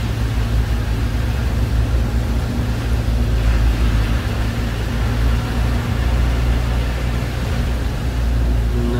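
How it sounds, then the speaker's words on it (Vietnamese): Heavy rain drums steadily on the cab of a 2019 JAC 2.4-tonne truck with an Isuzu engine while it drives, a loud, unbroken wash over a constant low engine and road drone. "hiện tại thì trời mưa rất to nha các bạn"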